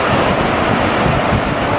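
Sea waves wash onto a beach in a constant, loud, broadband roar, with wind buffeting the microphone and no voices heard.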